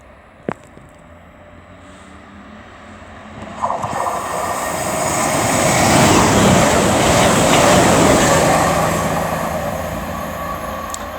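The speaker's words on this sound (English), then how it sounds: "now approaching will be 221-136 for CrossCountry, working 1 Victor 58 from Edinburgh to Penzance" A CrossCountry Class 221 Super Voyager, a four-coach diesel unit, approaches a station platform at Ashchurch for Tewkesbury, its engine roar swelling steadily from faint to loud and close over several seconds after a sharp click.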